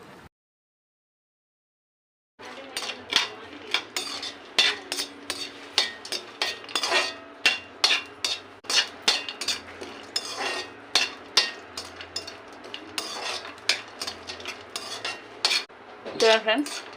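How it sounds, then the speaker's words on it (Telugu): Cashews, almonds, pistachios, raisins and coconut frying lightly in ghee in a pan, with steady close metallic scraping and clinking of a spoon stirring through the nuts alone, no talk. "ఇవి నెయ్యిలో వేసి వేయించుకోవాలి."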